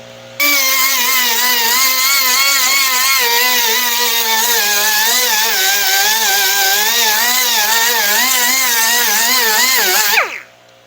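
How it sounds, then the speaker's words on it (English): An air grinder fitted with a Roloc 36-grit disc grinds rust off a car door edge, a loud, close, continuous high-pitched whir with wavering pitch as pressure changes, stopping abruptly after about ten seconds. "Got this edge all ground off with the roll lock."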